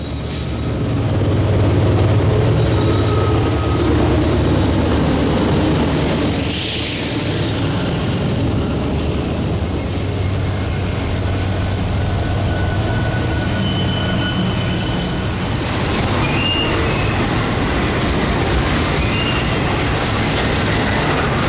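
A Kansas City Southern locomotive, number 4006 in patriotic colors, rumbles past loud and close for over twenty seconds, with steady clickety-clack and squealing wheels and no voices.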